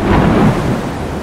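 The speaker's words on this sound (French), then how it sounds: "Une énorme tempête éclate, faisant dangereusement tanguer le bateau." Loud, steady rumbling thunder within a heavy thunderstorm at sea, a continuous roar that peaks early and then holds at a slightly lower level, with no voices.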